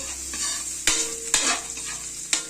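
A ladle stirs food cooking in a pan over a low sizzle, with a few sharp scrapes and knocks of metal against the pan at irregular moments, and no talking.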